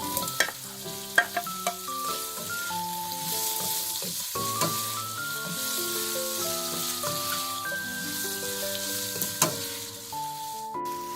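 Beef meatballs and beef sausage sizzle and crackle steadily in a hot pan while a utensil stirs and scrapes, with a few sharp clinks along the way.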